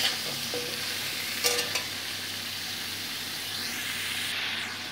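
Green chilies go into pumpkin leaf curry frying in a pan, giving a steady sizzle with a few brief stirring scrapes and clinks in the middle, close by and fairly quiet, with no talking.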